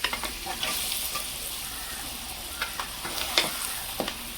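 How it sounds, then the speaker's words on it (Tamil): Onion, tomato, ginger-garlic paste and masala sizzle in a pan for chicken sukka while a spoon stirs and scrapes through them, giving a few sharp clinks over a steady frying hiss. "நல்லா கிண்டி விடுவோம்."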